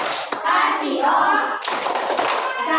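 Schoolchildren in a classroom clap in unison, a dense loud burst of hand claps with a brief break, under faint kid chatter.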